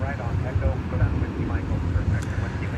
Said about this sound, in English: It's going to be American Airlines Flight 727. Flight 727. It's an Airbus A321